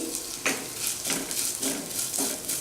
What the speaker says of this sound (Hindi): कुछ सेकंड के लिए हम इसे फ्राई करेंगे।